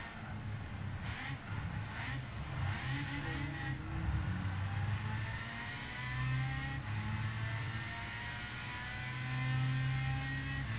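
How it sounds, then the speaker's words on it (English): A race car engine in Gran Turismo holds high revs against the rev limiter, a sustained buzzing drone with slight rising and falling pitch throughout, loud and steady with no talk. "The gearbox is also not set, so we ran into rev limiter."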